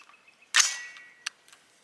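A single sharp report from an unsuppressed 300 Blackout AR rifle with a reduced power spring, with a brief ringing decay and a couple of faint metallic clicks afterward.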